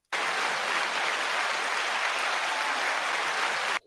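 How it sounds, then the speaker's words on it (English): A burst of dense clapping starts abruptly, holds steady at an even level for a few seconds, then cuts off sharply. "You get applause and everything."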